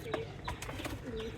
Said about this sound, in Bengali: ময়না কবুতর আছে না অনেক জোড়া